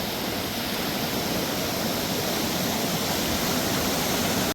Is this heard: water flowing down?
yes